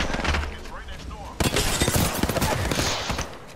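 Gunfire in the video game Apex Legends, a quick burst of close, sharp shots following a short stretch of quieter rattle, with a voice talking in the background.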